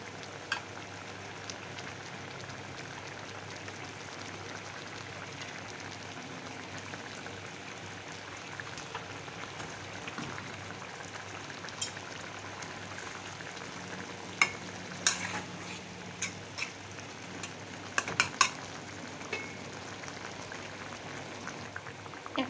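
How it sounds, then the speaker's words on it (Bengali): Koi fish fry in hot oil with pointed gourd in a pan, making a steady, even sizzle with a few small pops and crackles scattered through it. "এখন আমি মাছগুলি দিয়ে দিচ্ছি।"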